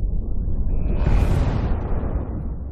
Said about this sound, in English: Colleagues celebrate, but then a massive nuclear explosion still occurs.